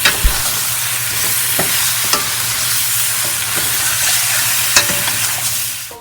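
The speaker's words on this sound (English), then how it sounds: "Continue to stir until all the ingredients are mixed." Mushrooms and oyster sauce being stirred in a hot pan for braised dried mushrooms, with a steady loud sizzle, scattered utensil scrapes and a few sharp clinks.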